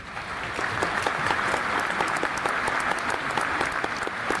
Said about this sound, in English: Crowd's applause, joined by my own,